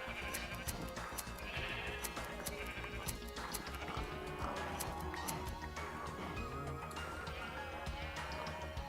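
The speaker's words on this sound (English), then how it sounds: "Let's shear the sheep." Sheep bleat amid a busy, layered Minecraft modpack soundscape of clicks and background game noise, the calls short and fairly loud throughout without talk.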